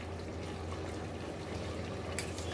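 Oil-coated fried potatoes tipped into a pot of spicy chicken curry with jackfruit seeds, giving a steady wet, pouring sizzle throughout and a brief brighter splash near the end.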